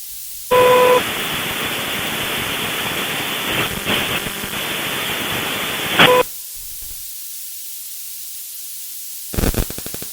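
Static on a recorded phone call from the number 4: a steady broadband hiss starting abruptly, holding for about six seconds with faint tonal beeps at its start and end, then cutting out, followed by a short burst of hiss near the end.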